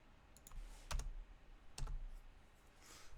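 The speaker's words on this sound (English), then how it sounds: "finally we type this command" A computer keyboard being typed on at a command prompt, a handful of quiet, sparse key clicks with two sharper strikes standing out, close and faint against low background hiss.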